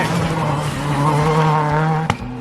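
A Skoda rally car on a snowy rally stage hairpin revs hard up close, engine note rising and holding, then a sharp pop and a brief drop in revs as it slides through the bend.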